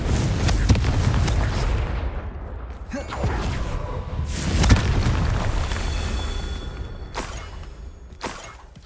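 Confringo blasting spells go off in Hogwarts Legacy as a series of booming explosions, with sharp cracks and rolling rumbles one after another at close range, and a voice calling out between blasts.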